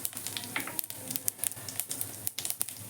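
Mustard and cumin seeds crackle in hot oil for tempering, sharp popping bursts and spits scattered irregularly over a low sizzle, fairly quiet and close, with no talk.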